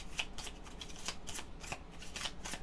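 Playing cards riffled and shuffled into a deck during a solo baseball board game, a quick run of papery flutters and snaps, close and fairly quiet, with no talking.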